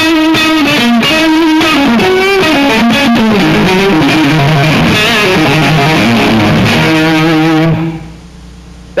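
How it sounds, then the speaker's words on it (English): Loud, sustained electric guitar played through an amplifier and a distortion box for extra gain, playing chords and riffs, ringing out before cutting to near silence at the end. "Then I'm running into a distortion box, which is giving me an extra bit of gain."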